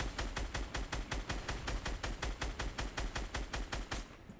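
Rapid automatic gunfire in the battle royale game PUBG, a steady stream of about twenty evenly spaced shots, loud and close, with no talk over it.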